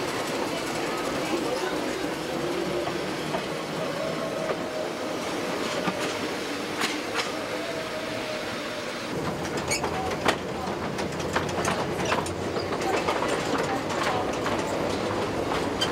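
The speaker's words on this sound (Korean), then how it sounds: "빨간 전차가 레일을 달린다." A red tram running on rails through a Brazilian city, a continuous rolling rumble with a rhythmic clatter of wheels on track and squeals that sharpen in the second half, with people talking faintly.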